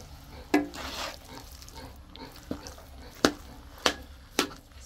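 Ube halaya being mixed with coconut milk in a wok, with a soft bubbling simmer under sharp spoon scrapes and knocks against the metal, four or five distinct strikes spaced apart.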